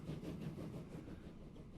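A train in the game Transport Fever 2 rumbles steadily, a faint, soft and continuous rolling noise with no other sound over it.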